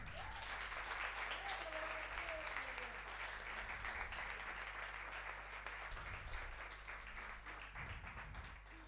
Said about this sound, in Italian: Un applauso per la nostra regia, Federico.